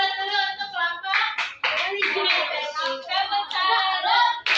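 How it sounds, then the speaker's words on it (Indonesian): A classroom group claps in rhythmic bursts while voices chant together loudly over the hand claps. "Tepuk salut dulu untuk kelompok."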